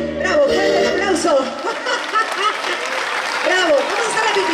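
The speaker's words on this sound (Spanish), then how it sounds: "fuerte el aplauso" An audience at a live stage show in Coronel Dorrego breaks into strong, sustained applause mixed with cheers and chuckles, loud and continuous with voices woven through it.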